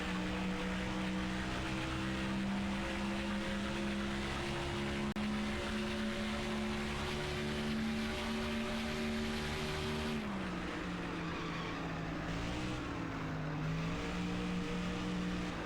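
Race car engine in NASCAR Thunder 2004 at Pocono, a loud steady high-pitched scream with strong harmonic lines, holding pitch then dipping and wavering after about ten seconds, continuous throughout with no voices.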